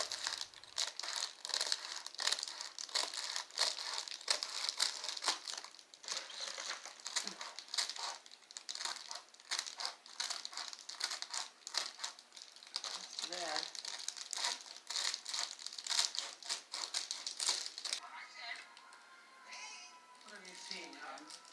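Reflectix reflective bubble-foil insulation crinkles and crackles continuously as strips are handled and folded up close, a dense papery rustle that runs steadily and thins out near the end.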